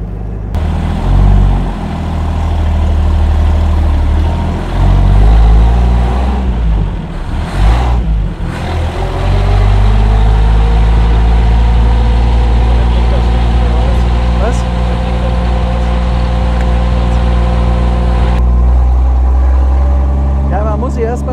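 A 1934 Lagonda M45 T7 Tourer, a large prewar vintage car, idles and then pulls away, its deep six-cylinder engine rumbling and revving loud and close with talk over it.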